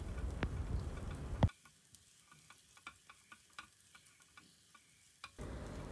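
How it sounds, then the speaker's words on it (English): Chopped ginger, garlic and green chili sautéing in hot oil over medium flame, a loud sizzle at the start, then soft, sparse scraping and ticking stir sounds, with the sizzle swelling again at the end. "now on medium flame, we will saute them for a few seconds"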